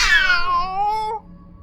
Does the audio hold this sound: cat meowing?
yes